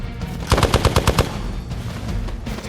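Rapid automatic gunfire from the video game Marvel's Midnight Suns, a burst of about seven or eight evenly spaced loud shots followed by a low rumbling tail, with no talking.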